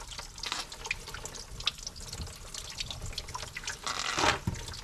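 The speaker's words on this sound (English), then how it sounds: "A little bit of slishy splash going on." Coolant water splashes and spatters from the cooling system of a 1966 CJ5 Jeep during an overheating repair, with an irregular close trickle and drip that builds to a louder burst of splashing near the end.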